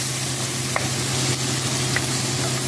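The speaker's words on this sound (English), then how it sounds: "let that saute for a minute" Fresh ginger garlic paste sautés with vegetables in a pan for pork chow fun, a loud, even sizzle with a faint hum and a few light utensil taps.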